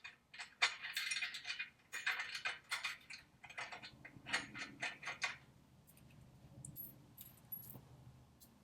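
Nuts are threaded by hand onto the bolts of a motorcycle engine mount, producing quick metallic clicks and jangling rattles in bursts that fade to sparse light taps, close and quiet.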